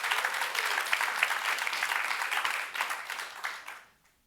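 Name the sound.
applause for speaker Dr. Richard Damania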